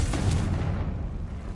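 A Confringo blasting spell goes off in the video game Hogwarts Legacy: a single heavy explosive boom that rumbles and fades over a second and a half.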